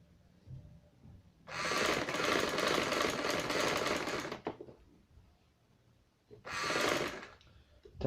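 Sewing machine stitching a bridal maxi dress, a loud rapid mechanical whir running for about three seconds, pausing, then a second shorter burst, close by.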